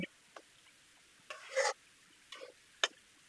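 Chicken skin being stirred in a pan, several short separate scraping and rustling strokes over a faint background with brief gaps between them, no talk.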